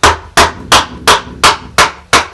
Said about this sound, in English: I'm going to hold it bevel down to stop it digging too far down into the wood